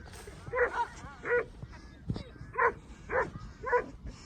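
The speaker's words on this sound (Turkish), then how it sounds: "diğer akbaş ve diğer çoban köpekleri" Akbash shepherd dogs bark in short bursts, several separate barks at moderate distance with pauses between, some overlapping calls.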